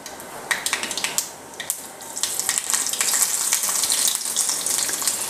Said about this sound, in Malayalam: അതിലേക്ക് ഒരു ചെറിയ അളവിൽ വെളിച്ചെണ്ണ ഒഴിച്ചു കൊടുത്തു കടുകിട്ട് കൊടുക്കുന്നു ചെറിയ ഉള്ളി ഇട്ട് കൊടുക്കുന്നു